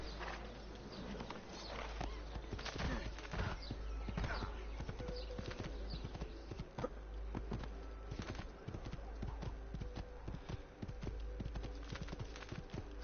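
Horse hooves clip-clop steadily at a gallop in the video game Assassin's Creed (The Ezio Collection), an even rhythmic pounding over a low background hum, with no talking.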